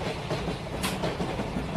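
Train passing in a played-back film scene, a loud continuous rumble of rolling wagons with faint rhythmic clatter, and no speech over it.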